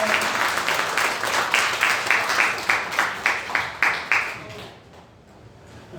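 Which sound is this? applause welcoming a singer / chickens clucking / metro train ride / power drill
applause welcoming a singer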